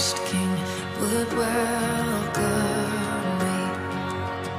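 Opening verse chords of a song played on piano, sustained harmonic chords in a dense full mix with a melodic line moving over them, steady and fairly loud throughout with no talking.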